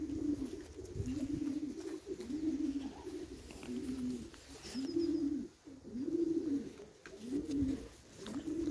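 Pigeons cooing inside a loft, a steady series of low, rolling coos repeating roughly every second, close and fairly loud over a quiet background.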